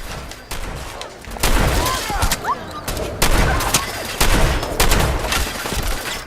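Gunfire in the video game Fallout 4, a series of loud shots in irregular bursts across several seconds, some shots closely spaced and others separated by short pauses, with game sounds between them.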